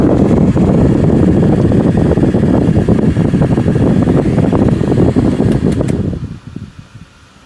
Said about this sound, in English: look, there's airflow. Oh, wow, it blows air.